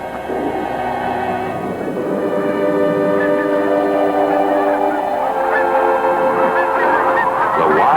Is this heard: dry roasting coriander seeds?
no